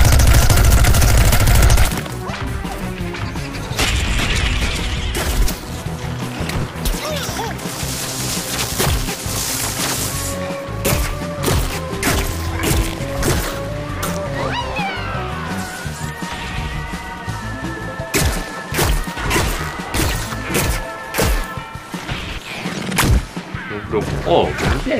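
Gunfire in the video game Plants vs Zombies Garden Warfare, Garden Ops mode: rapid, repeated sharp shots and impacts in bursts over a steady bed of game music and effects.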